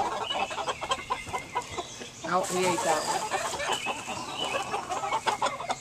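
Backyard hens cluck and murmur close by, a busy flock pecking at food, while someone talks casually over them.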